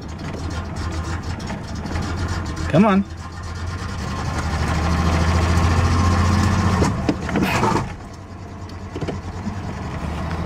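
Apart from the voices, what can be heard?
1993 Ford Ranger engine running rough, vibrating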